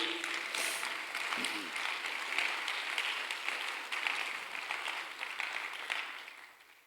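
A church congregation applauds during a sermon, a dense steady wash of clapping from many hands that runs throughout and tapers near the end.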